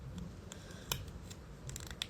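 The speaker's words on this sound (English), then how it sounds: "I'll just keep trying different pairs of scissors." Scissors snip several times, small crisp metallic cuts at an uneven pace, quiet and close with a low background hum.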